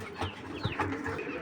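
Racing pigeons in a club loft, cooing in low repeated murmurs with light wing flutters and shuffling close by, a continuous restless flock sound with no talking.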